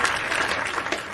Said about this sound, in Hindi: आपकी तालियां कमजोर पड़ रही हैं